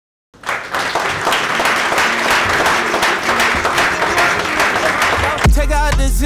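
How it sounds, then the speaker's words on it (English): Loud round of applause from the crowd at a networking event in Birmingham, bursting in abruptly and holding steady, with music starting up near the end. "can once again a round of applause"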